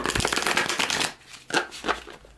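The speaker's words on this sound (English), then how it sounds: "Let's see how it shuffles." Tarot cards being riffled and shuffled up close, a dense papery flutter that breaks into two or three shorter bursts of shuffling.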